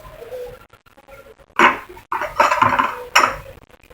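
A utensil scrapes and clanks against a pot while stirring shrimp and fern curry (gulai paku udang), giving a few irregular metallic knocks and rasping strokes up close, with quieter gaps between them.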